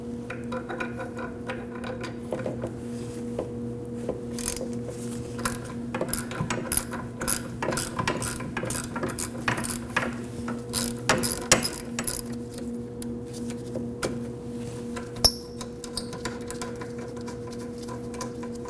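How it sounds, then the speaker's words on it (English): A ratchet wrench with a 12mm socket clicks steadily while backing out a rear brake caliper bolt on a 2011-2012 Kia Optima, a rapid close-up ratcheting with a faint steady hum behind it. "Using a 12mm socket,"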